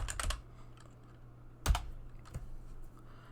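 Typing on a computer keyboard during a database lab exercise: a quick burst of keystrokes, a pause, then another sharp cluster of clicks and a final tap, close and fairly quiet.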